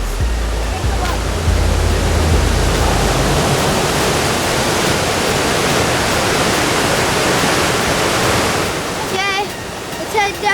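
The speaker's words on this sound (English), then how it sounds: "Waterfall. We're at Molten Falls." Moulton Falls on the Lewis River makes a loud, steady roar of falling water that fills the whole stretch. Low wind rumble comes in early, and birdsong chirps briefly near the end.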